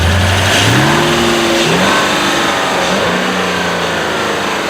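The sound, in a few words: Volkswagen Touareg 4.2 litre V8 engine accelerating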